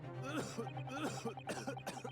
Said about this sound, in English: he's violently coughing